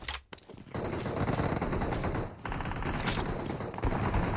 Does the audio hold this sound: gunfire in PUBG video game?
yes